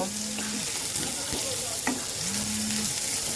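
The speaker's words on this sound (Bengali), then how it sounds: "এবার আমি পেঁয়াজটাকে খুব সুন্দর করে ভেজে নেব" Onions sizzle and crackle in hot oil in a pan, a steady frying hiss with occasional stirring clatters.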